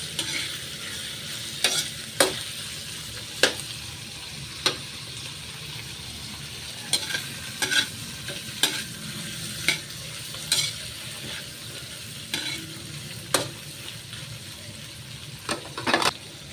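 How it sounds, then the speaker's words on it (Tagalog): Shrimp sizzle steadily in a hot pan while a utensil stirs them, sharp scraping clicks breaking through the frying hiss at irregular intervals, close and fairly quiet, with no talking. "Ilagay na natin yan. Halo-haloin lang siya, halo-haloin."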